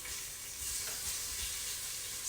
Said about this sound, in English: Sizzle, sizzle, making the magic.